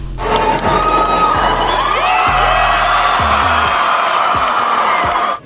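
A large crowd at a cast reunion for A Different World cheers, whoops and shouts continuously, loud and close throughout, with occasional thumps underneath.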